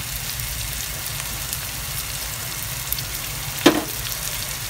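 Sambal tempe (fried soya cake) stir-frying in a pan gives a steady, even sizzle throughout, with one brief sharper scrape or clatter near the end.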